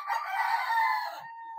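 A street comb gamefowl rooster crows once, a loud, close, drawn-out cock-a-doodle-doo lasting over a second and trailing off at the end, heard alone.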